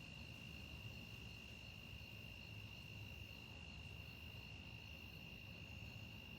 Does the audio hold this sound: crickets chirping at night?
yes